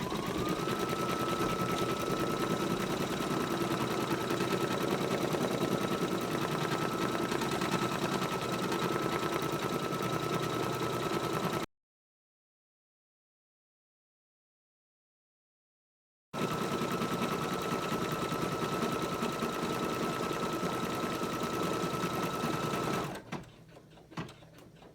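An embroidery machine stitches a name onto a coaster held in the hoop, a close, loud, steady rapid needle chatter that runs on, stops for a few seconds of silence, then resumes and winds down near the end.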